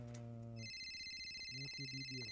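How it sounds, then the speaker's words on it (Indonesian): A telephone rings in a quiet room, its steady electronic tone sounding alongside a brief low musical chime, fairly faint and with no talking over it. "Waduh, ada telepon lagi nih."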